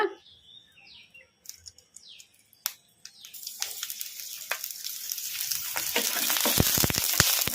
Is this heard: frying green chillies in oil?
yes